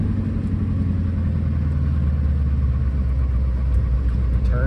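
A bullnose tow truck's engine while driving on the road, giving a steady, close, low rumbling drone that holds evenly throughout with no talking.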